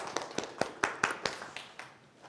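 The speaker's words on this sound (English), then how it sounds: "give yourself a big clap and good job" Workshop audience clapping in a sparse, uneven patter of individual hand claps, fairly close and modest in volume, thinning out and fading over a couple of seconds with no voices.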